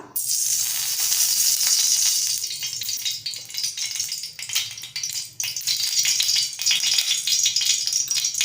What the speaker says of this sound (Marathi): आपला तवाही गरम झालेला आहे, आपण त्यामध्ये तेल सोडूया